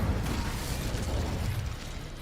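A fire spell from the Hogwarts Legacy game gives a sustained, heavy roaring rumble with dense low-end boom and crackling texture, steady and loud throughout with no voices.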